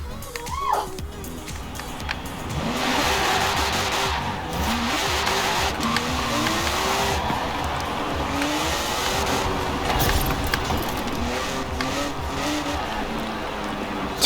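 A 1990 Porsche 911 racing in Forza Horizon 4 revs hard and climbs through gears, engine pitch rising and dropping with each shift, tire noise and a sustained loud drone throughout.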